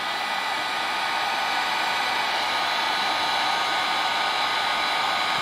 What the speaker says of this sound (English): You notice my blow dryer is way out here because I don't want a lot of air.